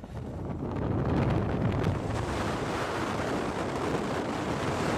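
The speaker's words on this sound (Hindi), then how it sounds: "सफ़ेद सफ़ेद कलर का जो दिख रहा है, ये लहरें तो उधर से आ रही हैं" Ocean waves breaking on the Tamil Nadu shore, a continuous loud wash of surf mixed with wind buffeting the microphone, no talking heard.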